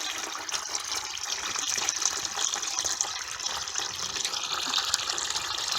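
Blue coolant and water gush steadily out of an Alde G13/3020 caravan heating system into a bucket, a continuous splashing, hissing flow heard close up with no talking.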